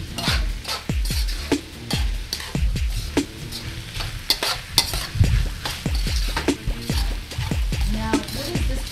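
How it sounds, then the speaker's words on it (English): Cooked rice being stirred with spices in a hot pan, a steady run of scraping spoon strokes against the metal over a continuous soft sizzle, close and fairly loud, with no clear talk. "Stirring all the flavors into the rice."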